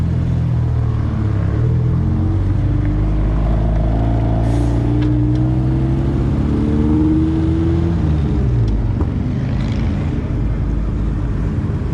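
A car driving through tight, slow traffic on neighborhood streets, its engine a steady close low rumble with gear and revving shifts, heard alone with no talking.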